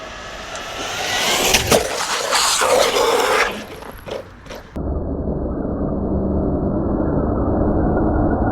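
A Traxxas Maxx RC car with its wheels ballooning at speed gives a loud, close electric whine and rushing road noise. Scraping bursts come in the first few seconds, then a steadier, duller drone continues.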